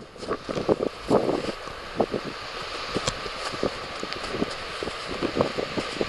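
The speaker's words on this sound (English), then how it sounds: "20 mile, 30 mile an hour gust." Gusty wind of 20 to 30 miles per hour on a mountain hike buffets the microphone in irregular bursts, rising and falling over a low rushing background.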